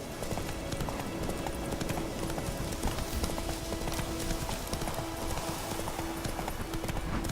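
Horse hooves clip-clop steadily at a gallop in The Witcher 3 video game, a continuous rhythmic pounding with game ambience and music underneath, with no speech over it.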